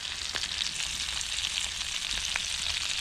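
A deer burger patty topped with melting cheese fries in an oiled pan outdoors, giving a steady, close crackling sizzle with scattered pops throughout.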